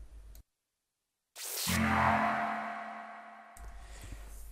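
A deep, rumbling synthesized drone swells in after a brief silence, a low sustained growl with a bright hiss on top that slowly fades.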